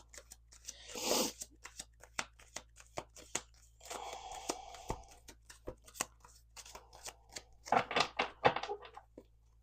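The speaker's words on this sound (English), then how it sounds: "let's do 2 more shuffles" A deck of cards being shuffled in repeated bursts, with soft riffles and taps on a table between shuffles, close and fairly quiet against a low steady hum.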